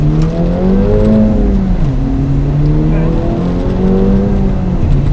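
A 2025 Acura Integra Type S engine revving through a heel-toe downshift, the steady in-cabin drone dipping and then blipping up in pitch as the revs are matched, heard up close with a voice speaking over it.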